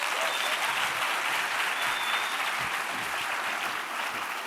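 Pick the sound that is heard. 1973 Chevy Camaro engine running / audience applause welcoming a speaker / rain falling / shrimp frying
audience applause welcoming a speaker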